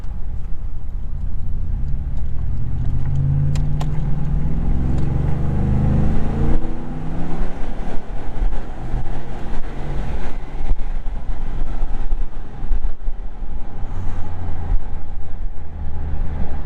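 A 5.0 Coyote V8 engine in a 2023 Ford F-150 pickup with a Speedys Equipment muffler revs up hard in second gear, a deep throaty rumble rising in pitch, loud and close, then settling into a lower drone.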